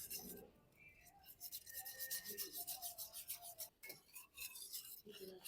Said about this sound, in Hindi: तो यहाँ पर हम इसको अच्छे से मिक्स कर लेंगे।